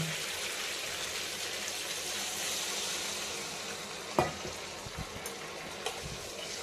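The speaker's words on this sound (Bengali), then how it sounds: "ঝিঙেটা কষানো হয়ে গেছে, এখন আমি জল দিয়ে দিচ্ছি।" Ridge gourd frying in a pan, a steady sizzle that runs throughout, interrupted near the end by a few sharp clatters and splashes as water is poured in.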